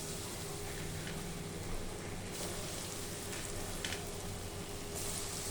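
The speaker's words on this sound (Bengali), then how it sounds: "উল্টিয়ে লাল লাল করে ভেজে নেব" Vegetable chops crumbed in bread crumbs sizzle steadily in hot oil in a wok, a dense continuous frying hiss with a few brief crackles, close and fairly quiet throughout.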